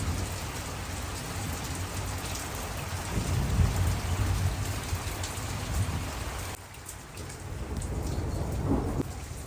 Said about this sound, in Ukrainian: Оце такий дощ.